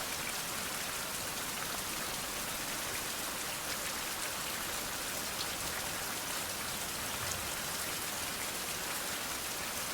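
Continuous heavy rain in the Survival: Fountain of Youth game, an even, dense hiss of drops on the ground that stays loud and unchanging throughout, with no talking.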